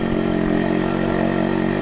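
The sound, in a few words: motorcycle exhaust note at idle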